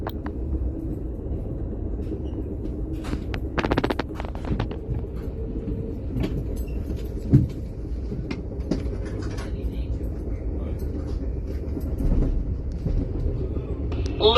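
Amtrak Southwest Chief train rolling out of LA Union Station, heard from inside as a steady low rumble with faint clanks and occasional brief squeals, continuous throughout.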